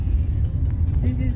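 Car driving with a full load of passengers, a steady low engine and road rumble throughout, with talking over it.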